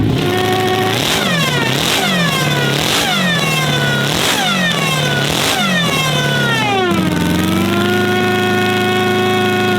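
Four-cylinder Hypersports engine with billet block and head in a racing snowmobile, revving hard in repeated loud rising-and-falling pulls, then settling into a steady high drone, close and alone with no talk.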